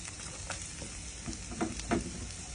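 Garlic and onion frying in olive oil, a soft continuous sizzle close by with a few brief stirring clinks and sputters, fairly quiet and without talk.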